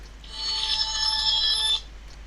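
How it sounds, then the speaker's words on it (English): A telephone rings once in a single sustained electronic burst of about a second and a half, clear and fairly loud over a quiet low hum. "And there's the phone again."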